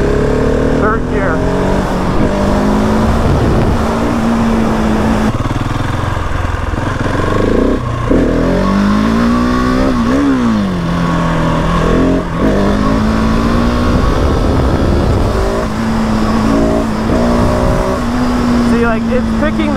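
A 2020 Husqvarna 701 SM motorcycle with a fuel dongle revs hard through third gear, its loud single-cylinder engine note rising and falling in sweeping pitch changes with wind noise, close and continuous.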